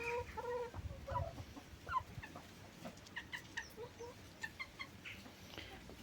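A domestic rooster and hens in a backyard flock give scattered, faint clucks and short squawks in an irregular rhythm, heard at a distance over quiet outdoor background.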